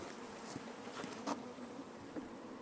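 Bees hum steadily at an apiary during a honey harvest, a dense continuous buzz with a few individual insects flying past close to the ear.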